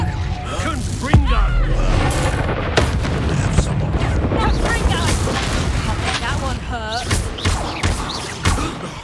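Loud, booming blasts from the Confringo explosion spell in the video game Hogwarts Legacy, with repeated heavy thuds and crackling bursts over dense battle noise, while voices shout the spell and talk over the action.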